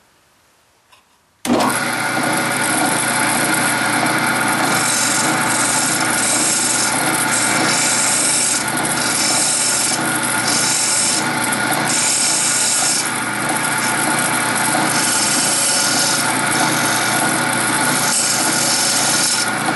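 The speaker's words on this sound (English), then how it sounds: "I am going to get one of my fancy little gouges, and we're going to put a little bit of an edge in here" Wood carved with a small gouge while edging a homemade candle lantern gives loud, continuous scraping and rasping close up. It starts abruptly after a brief quiet moment and keeps a slightly pulsing rhythm.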